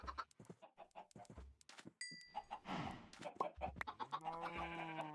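Chickens cluck repeatedly in a modded Minecraft-style desert farming game, short clucks and squawks recurring throughout, with a drawn-out call near the end, heard up close.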